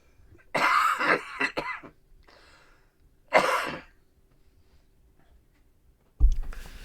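A person coughs in bursts, with two clustered bouts near the start and another single hacking cough a moment later, then a sharp knock at the end. Everything is close, with quiet gaps between.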